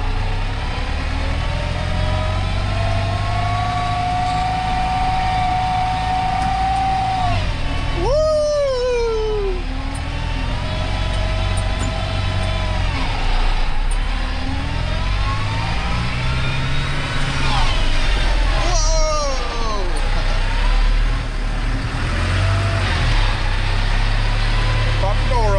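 A tractor engine runs outdoors in the snow: a steady, loud low rumble with shifting whining tones that rise and fall as the engine works, continuous throughout.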